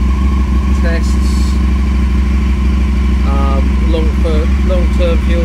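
An Aprilia Caponord motorcycle engine idles steadily and loudly throughout, a constant low rumble with some mechanical clatter, while a few short electronic beeps or tones sound over it.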